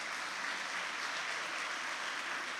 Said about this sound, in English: So can we have a big round of applause for all of our sponsors?